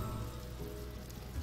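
Rain falls steadily in the colony-building video game Stonehearth, a soft, even hiss of drops with no talk over it.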